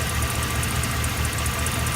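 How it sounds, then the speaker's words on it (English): The engine of a 2008 Chevy Express with 444,000 miles idles close by after a motor flush for noisy lifters, a steady low rumble and a faint rhythmic knock, no talking. "got the truck running, nice, smooth, powerful, strong engine"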